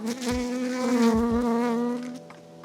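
Honey bees swarm around an open hive on a homestead, filling the air with a loud, close, steady droning buzz that wavers slightly in pitch and then tapers off near the end.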